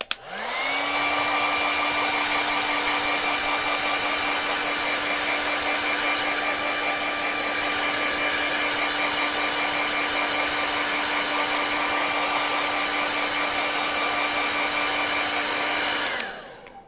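A hair dryer blows steadily and loudly on fresh paint on a Powder Blue Tang fish artwork, a constant whine with a fixed hum, switching on near the start and cutting off near the end, with no talking.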